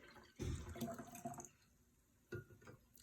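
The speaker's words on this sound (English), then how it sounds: "I'm gonna pour some water in one" Water is poured from a pitcher into a vase, a short gurgling splash that trails off, then a second brief pour a moment later, both close and fairly quiet.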